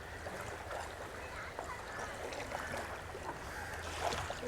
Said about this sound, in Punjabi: ਹੁਣ ਇੰਜਨ ਸਟਾਰਟ ਹੋ ਰਿਹਾ ਜੀ